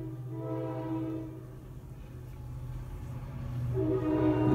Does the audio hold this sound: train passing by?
yes